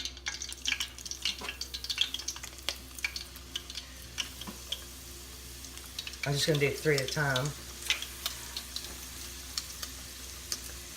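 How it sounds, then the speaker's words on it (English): Beef and pork egg rolls frying in hot oil, a steady soft sizzle with scattered crackles and pops running throughout, while a person talks briefly partway through. "So I'm going to continue frying,"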